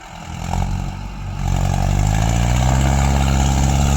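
Arjun 555 tractor pulling up rough, uneven ground, its diesel engine droning loud and close, rising to a steady heavy labouring roar.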